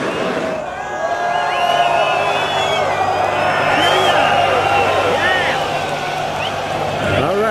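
Concert crowd in Istanbul massed in front of the stage before a metal show, a dense roar of many voices with scattered whoops and shouts, steady and close, with nearby people talking over it.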